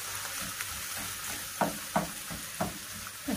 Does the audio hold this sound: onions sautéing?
yes